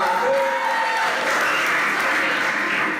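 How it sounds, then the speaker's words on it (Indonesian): Audience applause at a talk on healing emotions, a dense, steady patter of clapping lasting a few seconds, with faint voices mixed in near the start. "Tepuk tangan buat Hermawan."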